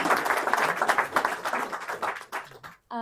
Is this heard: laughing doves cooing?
no